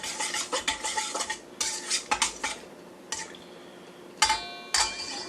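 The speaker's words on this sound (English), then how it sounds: "to mix it up with just a little bit. Break any kind of lumps up." A butter knife stirs a yeast roll mixture in a bowl to break up lumps, clinking and scraping against the dish in quick, irregular bursts of metallic taps, close and fairly loud, with short pauses between strokes.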